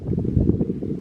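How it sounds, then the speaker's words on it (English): Low, rumbling wind gusts buffeting the microphone outdoors, steady and fairly loud for about a second. "I'm sorry for the wind, guys, it's really windy outside."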